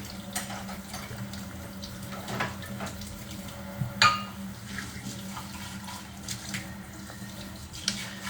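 Dishes being washed under a running kitchen tap, with a steady soft stream of water and scattered light clinks and splashes throughout, fairly quiet and close.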